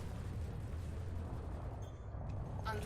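Multi-cannon fire from a ship in the space combat game Elite: Dangerous, a dense low rumbling barrage of rapid shots that continues steadily, with a few brighter impacts near the end.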